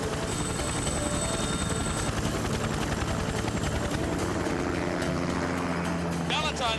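Helicopter hovering close by with loud continuous rotor chop and turbine roar, a steady dense throb throughout, with voices partly mixed in beneath it.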